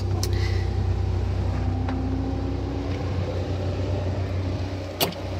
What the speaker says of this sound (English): So far, seems like a really nice, smooth engine